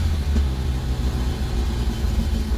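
A Peugeot 205 GTI engine idles steadily, a continuous low rumble heard from inside the car with a constant, even loudness and no voices.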